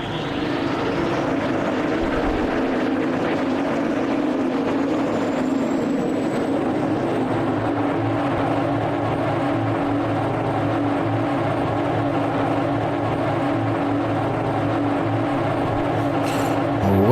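An F-16 Viper jet engine spools up during start-up in a flight simulator, giving a steady, loud, continuous whine and roar that holds for the whole stretch with only a faint rising tone near the start. No one speaks.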